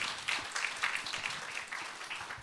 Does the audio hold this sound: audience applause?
yes